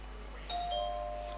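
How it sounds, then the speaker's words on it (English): A single contest buzzer bell for a university team in a business quiz challenge sounds once with a bright ding, its clear tone ringing on for under a second over a quiet room. "Let me hear the bell from Central University."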